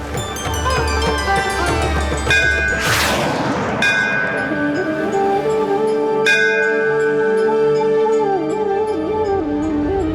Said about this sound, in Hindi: मंदिर का घंटा अपनी ध्वनि से उसका मार्गदर्शन करता है